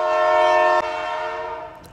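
A train passes close by, blowing a loud, steady horn chord that holds for nearly two seconds before fading slightly, with rumbling rail noise underneath.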